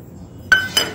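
Roasted safflower seeds are tipped into a steel mixer grinder jar, two quick bright clinks in close succession, near and clear against a quiet room.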